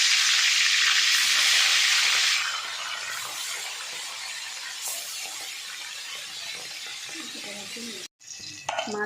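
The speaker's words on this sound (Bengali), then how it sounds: "তেলটা গরম হয়েছে, এখন দিয়ে দিচ্ছি মাছ।" Fish drops into hot oil with a loud, bright hiss that settles after a couple of seconds into a steady, softer frying sizzle. A short clatter of utensils comes near the end.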